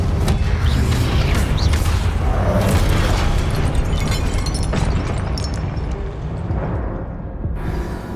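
A fiery explosive spell detonates in a wizarding action game, a loud, dense boom with a long rumbling, crackling tail that fills the space and slowly decays, with no talking over it.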